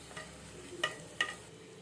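Dried red chillies frying in hot oil for a bitter gourd pickle, a low steady sizzle with two sharper crackling pops near the end, close and fairly quiet, no voices.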